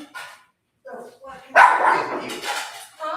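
Dogs in Venezuela bark in several close, sharp bursts with gaps between them, mixed with people talking nearby.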